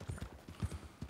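Horse hooves clip-clop in Red Dead Redemption 2 while an agitated horse shifts about, a quick, close run of dull thuds in uneven rhythm, with no voices.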